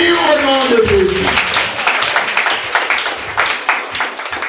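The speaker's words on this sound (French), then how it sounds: "Applaudissons le Seigneur très fort, très fort" Church congregation clapping and applauding loudly, a dense continuous patter of many hands that swells and then continues steadily, with a voice speaking over the start.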